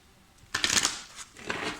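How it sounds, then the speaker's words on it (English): Tarot cards being shuffled on a cluttered table: a sudden burst of quick riffling and sliding, a short pause, then a second softer run of shuffling, close and fairly clear with no talking. "let me begin shuffling your cards"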